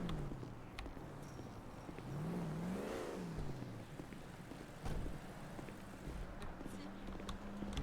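A powerful car engine in a game revs up, its pitch climbing to a peak and falling back, under steady background noise with people talking.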